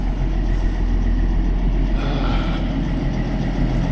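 A Kenworth C500 flat-top truck hauling coil runs under heavy load, its diesel engine droning in a steady, loud, close low rumble with no pauses.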